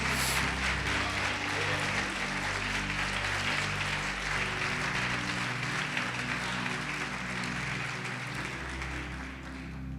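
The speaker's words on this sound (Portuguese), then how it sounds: "Você pode aplaudir o Senhor Jesus e glorificá-lo." Church congregation applauding in worship at a Brazilian evangelical service, a steady, dense wash of clapping held through the whole stretch with a low sustained musical drone underneath.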